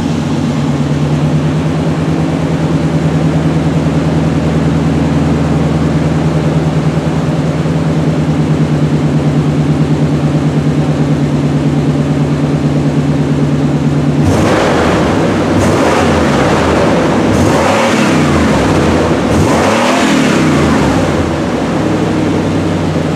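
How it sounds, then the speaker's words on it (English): A 1989 car with a Jones Max Flow muffler runs after a cold start, holding a loud, steady droning idle before the exhaust note turns rougher and swells with several revs. "here's a cold start of the 89 with the Jones Max Flow"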